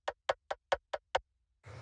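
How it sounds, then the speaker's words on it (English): Six crisp, dry clicks of a rim shot style techno percussion sample tap out in an even quick rhythm, short and subtle, followed by a brief burst of noisy sound at the end. "It's just this little percussion. I'll play you the original sample. There we go, kind of like a rim shot type of sound."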